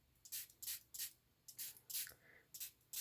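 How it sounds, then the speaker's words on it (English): Hand-pumped spray bottle misting water onto paint swatches in repeated short hissing bursts, about eight sprays in steady rhythm, close and fairly loud with no talking. "And then I usually spray them again"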